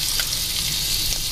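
Breaded cod fish cakes fry in a pan with a steady, loud, close sizzle and crackle of hot fat that runs without a break.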